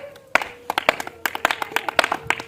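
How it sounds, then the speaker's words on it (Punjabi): Sharp, close hand claps land in an uneven, quickening rhythm after a quiet start, each crack distinct and loud, with a faint tone lingering underneath. "ਤੂੰ ਤਾੜੀਆਂ ਮਾਰ"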